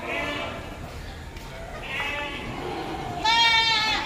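Goats bleat among the crowd at the Deonar livestock market in Mumbai, with a few wavering calls over steady market noise and one louder, closer bleat near the end.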